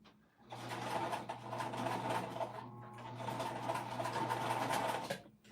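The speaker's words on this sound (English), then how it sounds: "I'm just top stitching this in place." A sewing machine runs steadily for about five seconds, top stitching a fabric pouch with an even mechanical whir that stops abruptly at the end. The sound is close and stands alone.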